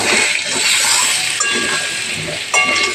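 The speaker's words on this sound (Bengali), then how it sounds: "এবার লাল লাল করে ভেজে নেব। আলুগুলো ভাজা হতে থাক।" Potato pieces frying in hot oil with salt and turmeric for a Bengali rohu fish curry, giving a steady, loud sizzling hiss throughout with a few faint clinks of a utensil against the pan.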